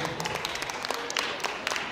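An audience at a children's Christmas show applauds with scattered, moderately loud clapping that carries under faint background chatter.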